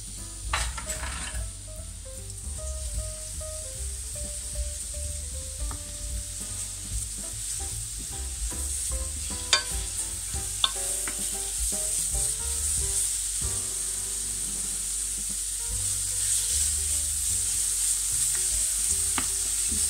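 Shallots and onions fry in hot oil in a pan, a steady bright sizzle running throughout, with occasional stirring scrapes and utensil taps against the pan and no one talking.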